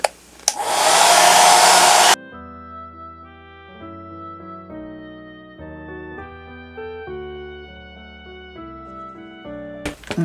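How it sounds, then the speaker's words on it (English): A blow dryer on low heat drying acrylic paint on a Christmas ornament roars loud and close in one steady burst of under two seconds, then cuts off abruptly and leaves calm music playing. "I keep moving my blow dryer."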